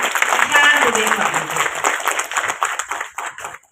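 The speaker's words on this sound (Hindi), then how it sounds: "और आप लोग जोरदार तालियां बजाकर ईशान दुबे को" Applause from an audience at a Hindi poetry gathering greets a poet, a brisk burst of many hands clapping that tapers off unevenly, with a voice speaking briefly at the start.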